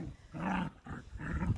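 Dogs growling and roaring as they play rough together, a border collie or cattle dog mix among them, two sustained growly bursts with a short break, close and moderately loud.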